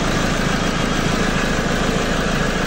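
A Nissan Navarra engine idles with an uneven, breathing rhythm and low power, giving a loud, close, continuous rumble that rises and dips slightly.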